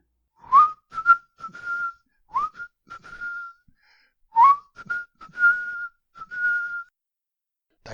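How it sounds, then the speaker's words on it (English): A person whistles a short tune, with bright chirping phrases in bursts separated by brief pauses, close and clear against a silent background. "Jelf enters whistling."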